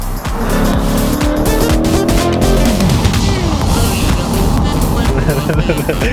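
A C8 Corvette and a Tesla Model 3 Performance race in a drag run, with loud, close engine roar and tire squeal throughout and voices mixed in over the noise.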